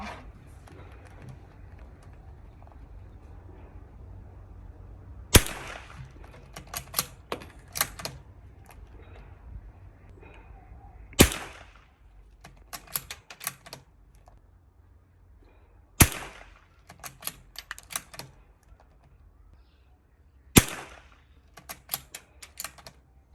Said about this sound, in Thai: น้ำอิงจะยิง 5 นัดนะคะ สำหรับ สีแซดสี่ห้าห้าตัวนี้นะคะ